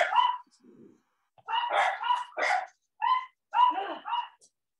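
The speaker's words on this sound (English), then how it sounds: "That's the doggy, Mia doggy." A dog barks in a series of sharp, close barks in irregular bursts, with a short soft sound between the first bursts and silence between the barks.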